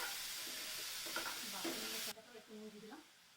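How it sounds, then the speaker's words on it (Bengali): Pointed gourd seeds fry in hot oil with a bright, close sizzle that cuts off sharply midway, while a voice speaks over and after it. "তেলটা গরম হয়ে গেছে, এবারে আমি পটলের বীজগুলো দিয়ে দিচ্ছি।"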